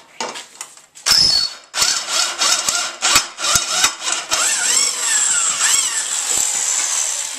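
A power drill whirs in a series of short bursts that rise and fall in pitch, then one longer sustained run of drilling near the end.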